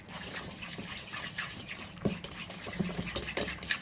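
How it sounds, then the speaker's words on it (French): Eggs being mixed with another ingredient in a bowl, a soft wet stirring and sloshing with small clicks of a utensil, close and quiet, with no talk. "Michael procède au mélange de ces 2 ingrédients"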